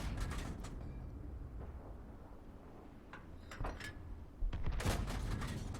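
Tank guns and explosions boom in a World of Tanks battle while an Strv 74 engages an IS. Several separate heavy shots and impacts stand out against a constant rumbling background, and the loudest blast comes near the end.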